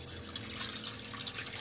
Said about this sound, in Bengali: আর কড়ার মধ্যে আমি জল দিয়ে দিচ্ছি বন্ধুরা।